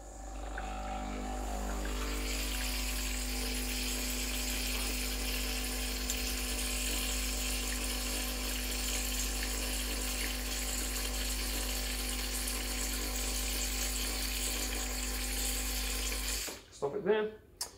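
Breville Dual Boiler BES900 espresso machine running water through its group head, a steady loud pump hum with a constant low buzz and hiss of flow lasting about sixteen seconds before a clatter at the end.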